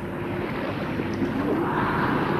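Stormy sea in an East German animated cartoon: a continuous roar of wind and surging waves, loud and steady throughout with no break.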